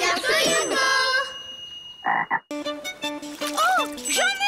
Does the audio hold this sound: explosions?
no